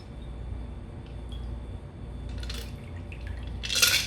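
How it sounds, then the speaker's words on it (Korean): A stirred dry martini is poured slowly from a mixing glass into a serving glass. A steady, soft liquid trickle runs over low background hum, ending with a brighter splash and clink of glass. "천천히 음료를 따라줍니다."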